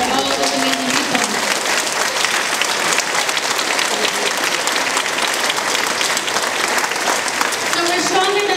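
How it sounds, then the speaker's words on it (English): Audience applause for volunteers at a community organization gathering, steady dense clapping filling the room for several seconds, with a few faint voices mixed in. "We just have a round of applause for all of the amazing people."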